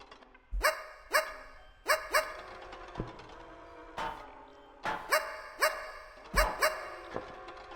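A robot dog in the video game Ctrl Alt Ego barks repeatedly, sharp bright yaps in an uneven series, close and clear with nothing else over them.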